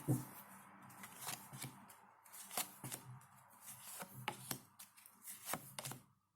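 Tarot cards being shuffled close up, a run of crisp riffling bursts and soft taps spread across several seconds with no talking.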